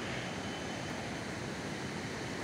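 A Nepali hill stream flowing steadily, a continuous broadband rush of water with no breaks and no voices.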